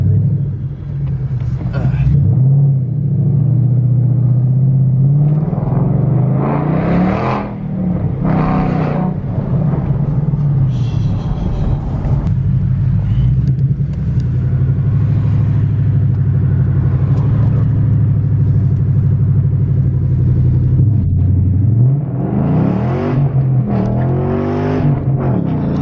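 A Ford S197 Mustang fitted with suspension modifications rumbles on its first drive, a loud, low engine note that rises and falls with acceleration while people talk and shout excitedly over it.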